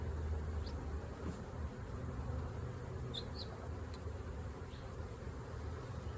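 Honeybees buzzing around an open hive during an inspection, a continuous low droning hum with occasional individual bees passing near; steady and moderately quiet, no talking.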